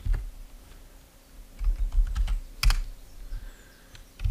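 Typing on a computer keyboard, scattered soft clicks followed by a brisk burst of keystrokes and a few sharper taps, close and quiet with no talk.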